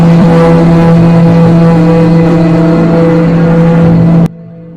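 A truck engine runs loud and close with a steady low drone and rough mechanical rumble, holding constant before cutting off abruptly near the end.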